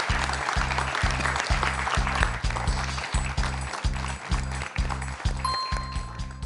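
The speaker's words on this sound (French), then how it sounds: "On peut l'applaudir, Frédéric, pour ce magnifique score." A TV quiz show studio audience applauds, a dense, continuous wash of clapping laid over a rhythmic thumping beat, steady and fairly loud throughout.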